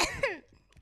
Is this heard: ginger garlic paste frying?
no